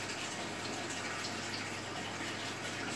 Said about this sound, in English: Sorry if the water's loud and hard to hear over.